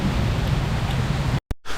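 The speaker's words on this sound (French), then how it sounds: "on est sous un putain d'orage" Heavy rain pours steadily at night during a thunderstorm in the Alps, a dense hiss with low rumbling underneath that cuts off abruptly near the end.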